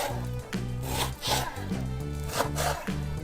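A knife saws back and forth through primitive-style smoked fish with a smoky skin and white flesh, making close, rhythmic rasping strokes, about six in quick succession.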